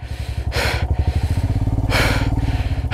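A lone motorcycle ridden along a snowy mountain road toward Madhuri Lake, its engine thumping in a fast, even pulse close up, with bursts of wind or breath noise sweeping over it twice.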